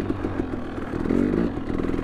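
A dirt bike engine on studded tires revs steadily in fresh powder snow, then swells briefly as the rider shifts up a gear, loud and close.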